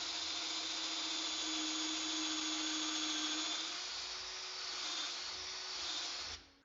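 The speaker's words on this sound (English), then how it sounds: "it's time to drill out pocket holes with the Kreg pocket hole jig" Kreg pocket hole jig drilling pocket holes in cabinet stock: a steady high-pitched drill whine runs continuously for several seconds, close and loud, then cuts off abruptly at the end.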